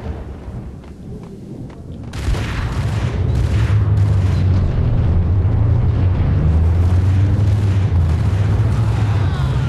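Grenade blast in the Max Payne shooter game, a heavy rolling boom that swells in and sustains loudly with deep rumbling for several seconds.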